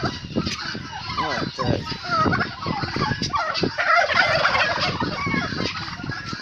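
Turkeys gobbling in a mixed flock, repeated rolling gobbles overlapping close by and loud throughout, with a person speaking briefly among them.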